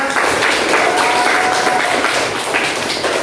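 Applause from a classroom of students fills the space, a steady dense patter of clapping hands lasting a few seconds, loud and close throughout.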